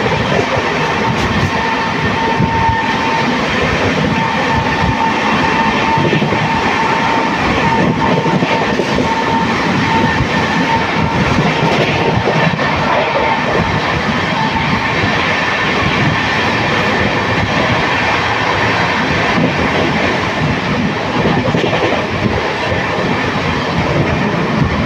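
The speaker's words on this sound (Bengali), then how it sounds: "আর ট্রেন 130-এ ছুটছে" An LHB-coached Netaji Express runs at about 130 km/h, a loud, continuous rumble and roar with steady rail clatter and strong wind noise close by, unbroken for the whole stretch with no talk.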